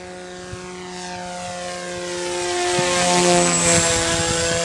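Small modified drone aircraft flying downwind in a light breeze, a steady buzzing propeller whine with a constant pitch that grows gradually louder as the craft approaches, heard alone without talk.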